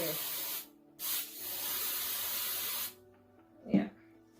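Close, loud hissing of a spray paint can coating a bottle craft in two bursts, a short one then a longer steady one, followed by a brief clunk.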